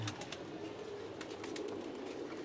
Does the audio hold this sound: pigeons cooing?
yes